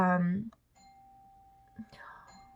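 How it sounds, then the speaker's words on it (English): A doorbell chimes with a sustained electronic tone after a voice trails off, followed by a softer second chime and faint background sounds. "my kids are ringing the freaking doorbell"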